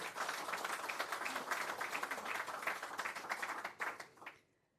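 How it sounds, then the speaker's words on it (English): Applause from the audience at the official opening of a regional workshop on early childhood care and education, steady dense clapping for several seconds that fades out at the end, fairly faint and distant. "Another big round of applause for the ICT and Space 95 and ICD"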